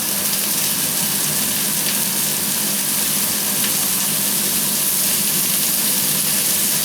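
Tomato puree sizzling and frying steadily in a hot pan for a beef and ale stew, a continuous close crackle and hiss with no talking over it.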